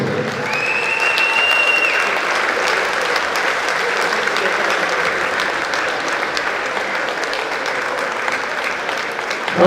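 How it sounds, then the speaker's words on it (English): A large darts festival audience on the Isle of Man claps steadily and loudly, a dense sustained roar of applause with a faint whistle early on. "let's have a massive round of applause for your 2 Wheelchair Classic finalists, Phil and Ricky."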